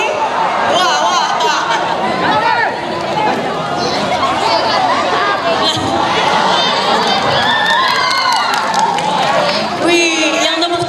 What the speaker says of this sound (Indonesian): yang tepuk tangan kok yang cewek-cewek nih